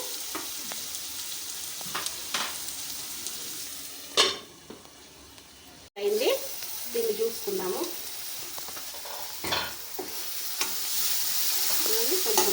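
Chicken gizzards with salt fry in a pan, a constant sizzle under intermittent stirring scrapes and utensil knocks, pausing briefly midway before the hiss resumes.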